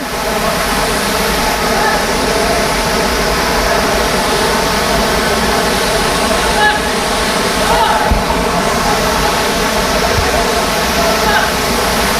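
Sarugudu waterfall in Anakapalli district, a steady, loud broadband rush of falling water that fills the whole stretch without pause, with faint voices mixed in underneath.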